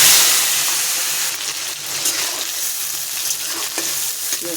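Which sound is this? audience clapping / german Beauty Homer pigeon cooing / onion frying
onion frying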